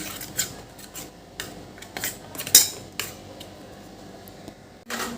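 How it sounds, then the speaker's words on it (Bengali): A spoon scraping and clinking against a bowl while poppy-seed paste, salt and other ingredients are mixed for bori bhapa, with several light irregular scrapes and taps close up and no voices. "এবার সব উপকরণগুলো চামচ দিয়ে ভালো করে মিশিয়ে নিচ্ছি"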